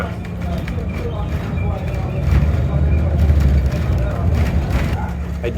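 A TTC shuttle bus replacing the Line 3 service rumbles steadily from the inside, with a low engine drone that swells slightly mid-ride and constant road noise, while someone talks over it.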